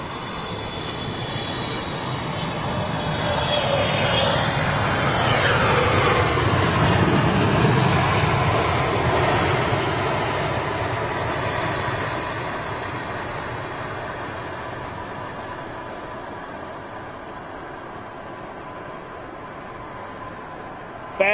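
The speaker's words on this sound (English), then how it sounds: "Very little demand on the engines for reverse thrust. All about the brakes and the ground spoilers" A Qatar airliner in standard livery lands at Schiphol, a loud, sustained jet roar and rush that swells over several seconds and then slowly fades as the aircraft brakes on the runway.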